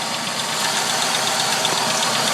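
A 2000 Chevy Cavalier 2.2L OHV engine runs with its drive belt turning and a bad AC compressor shedding metal shavings, giving a loud, close, steady mechanical whir and hum with faint rapid ticking throughout, and no speech.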